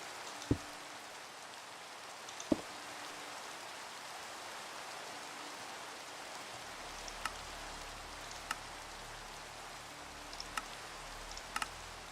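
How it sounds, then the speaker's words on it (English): Steady rain falls in the video game Minecraft, a soft, even hiss with a few faint ticks and taps scattered through it. "Everyone loves the sound of rain, right?"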